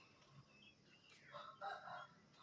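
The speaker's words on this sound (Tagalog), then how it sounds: "May mga manok po dito." Chickens and a rooster at a house in the Philippines, a faint crowing call rising and falling near the end, with soft background clucking.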